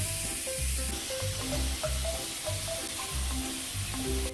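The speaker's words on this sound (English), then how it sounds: "You can hear the sizzling." Goat chops sizzle loudly in a hot grill pan, a constant crackling hiss with a few faint clinks, close by and with no voices.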